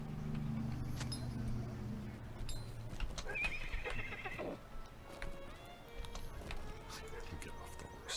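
Horse whinnying and hooves clip-clopping in The Lord of the Rings Online, a loud neigh near the start followed by a steady trot of hoofbeats, with a voice talking over part of it.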